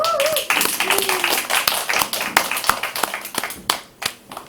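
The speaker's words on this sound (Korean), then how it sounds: "박수 한번 칩시다." Audience applause at a concert troupe launch ceremony, a dense burst of many hands clapping that thins into scattered claps over several seconds, with a voice briefly heard at the start.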